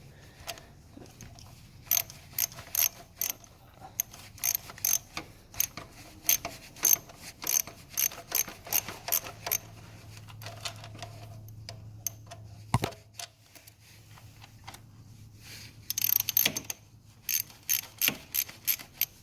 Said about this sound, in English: so I tighten on this one all the way and then tighten up again